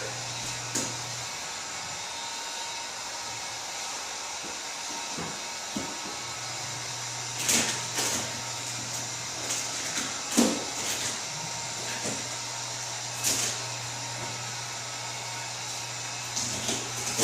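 A heat gun set on low blows steadily while held well back from 3M vinyl wrap on a 2007 Subaru Impreza WRX STI, a continuous airy hiss with a low hum and occasional short bursts.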